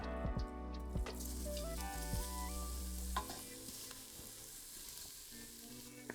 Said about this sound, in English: once the olive oil is hot, we are going to add our onions and shallots